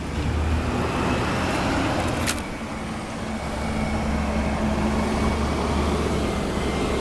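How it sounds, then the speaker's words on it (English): Garbage truck driving past on a road, a loud, steady engine rumble and road roar close by that fills the whole stretch without pause, with no talk over it. "I got a trash truck coming right by me."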